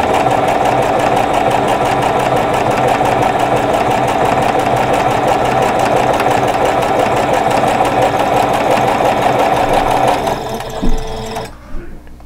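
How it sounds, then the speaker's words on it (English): A sewing machine stitches a quarter-inch seam on a pinwheel quilt block, a loud, close, steady mechanical whir with a fast needle pulse that runs for about ten seconds, then stops with a few brief clunks. "I'm stitching a 1/4 inch away from that seam"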